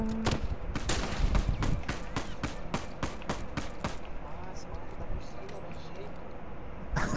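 Rapid bursts of gunfire from The Last of Us Remastered multiplayer, a dense run of sharp shots in the first few seconds thinning to scattered reports, with a steady game background underneath.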